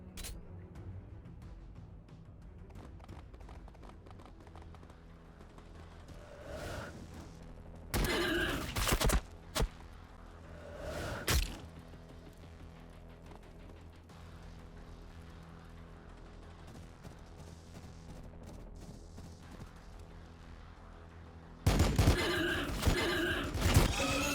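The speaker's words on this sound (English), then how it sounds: "Do like the bolter fire." Bolter fire in Warhammer 40000 Battlesector, loud dense bursts of rapid gunfire that come in separate volleys, with a long sustained barrage at the end, over a quiet game background.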